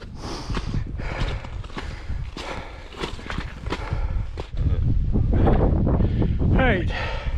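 Strong wind roaring across a Scottish mountain, Beinn a' Ghlò, in loud continuous buffeting gusts over the microphone that swell louder in the second half, with scattered crunching sounds.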